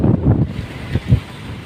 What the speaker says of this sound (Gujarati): પવન જ છે અત્યારે